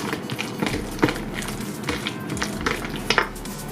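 Utensil stirring cream cheese crab dip ingredients in a bowl, with irregular scraping, soft thuds and sharp clinks against the dish, close and fairly loud.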